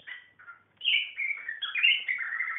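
A budgie chirps alone, a quick pair of short tweets followed by a longer burst of busy, warbling chatter, loud and close.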